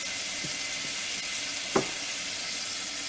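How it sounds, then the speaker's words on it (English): Vegetables sizzle in a hot pot for chicken miso soup, a steady close frying hiss with a couple of brief scraping stirs of a utensil, no talking. "So now add your veggies and then stir them around and soften them"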